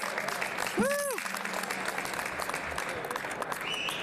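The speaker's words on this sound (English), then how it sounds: "so please give them a round of applause" Audience applauding the Ronald McDonald House staff, a steady wash of clapping throughout, with a brief rising whoop or whistle near the start.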